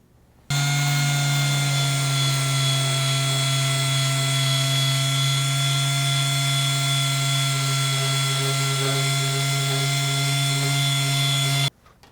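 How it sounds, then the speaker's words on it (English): A power sander works a carbon tip repair on a Hartzell composite propeller, giving a loud, steady whine with strong sustained tones that starts abruptly, runs unbroken for about eleven seconds, then cuts off. "I'm always just a little bit more cautious when I sand out a carbon repair"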